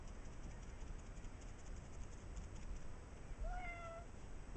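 A cat meows once over a steady background hum, a short rising-then-falling cry with clear harmonics near the end, moderately close and alone without talk.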